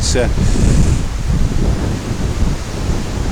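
A ferocious wind blasts across the microphone while anglers fish outdoors, a loud continuous buffeting roar with rumbling gusts and no pause.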